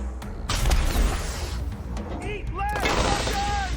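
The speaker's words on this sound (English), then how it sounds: "That is a mortar strike." Mortar strike in Wasteland 3: heavy, rapid blasts and booms fill the scene, followed by whistling, whining tones from incoming shells over dense explosive noise.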